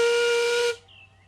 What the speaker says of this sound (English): "An engine's not an engine without a whistle," boasted Duncan. And just to prove it, he let off a big blast.